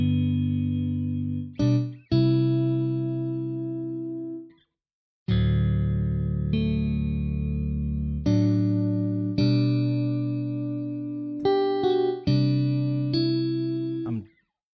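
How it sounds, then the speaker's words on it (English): A clean electric guitar plays sustained chords and single notes with crisp attacks, separated by brief pauses and one longer silence. "Just want to listen to the pure sound of the guitars."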